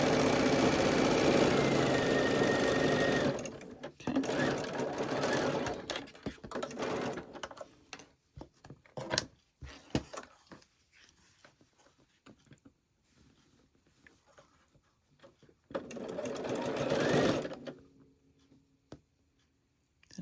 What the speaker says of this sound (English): And I'm going to start sewing